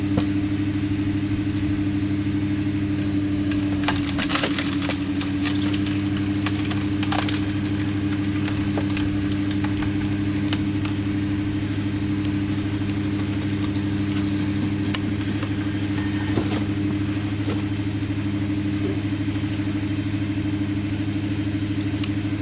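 Stickler log splitter driven by an engine near 1500 RPM, running steadily with a constant low mechanical hum throughout, punctuated by occasional wood cracks and splintering sounds from a log being split.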